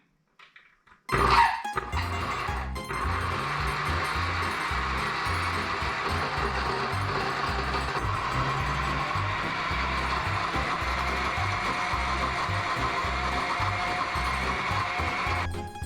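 An electric blender running on a low setting purees pesto after a brief clunk of the lid and a click at startup. Its motor then whirs loud and steady to the end, with no talking.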